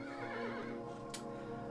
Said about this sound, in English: my horse is blowing